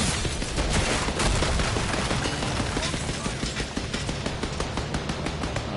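Rapid gunfire crackles at a firing range in the video game 007 First Light, dense bursts of shots running steadily across the clip over a busy game soundscape.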